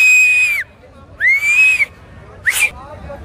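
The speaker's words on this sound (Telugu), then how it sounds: "విజిల్ కొట్టాల్సిందే." Three sharp, piercing whistles ring out one after another, the middle one longest, from a crowd of fans celebrating a Pawan Kalyan movie screening of Jalsa, with a low murmur of background noise between them.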